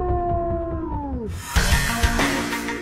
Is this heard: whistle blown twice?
no